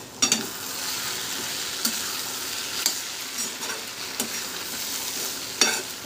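Mixed vegetables with cumin, coriander powder, sesame seeds and pepper fry in a pan under a constant hiss of sizzling. A spoon stirs the mixture, giving periodic scraping knocks roughly every second.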